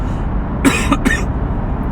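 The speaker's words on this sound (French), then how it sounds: "À force de parler, je tousse." A quick pair of sharp coughs close by over a low rumbling background, the second following right after the first.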